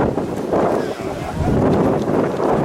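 Heavy wind buffets the microphone at an outdoor rugby match, a steady broadband roar with gusty swells filling the short stretch; no clear talk over it.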